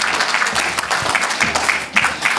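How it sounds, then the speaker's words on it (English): Audience applause at a memorial lecture as guests come on stage, a steady dense wash of clapping from a large crowd held throughout at fairly loud level. "Can we clap hands for them as they're coming on stage?"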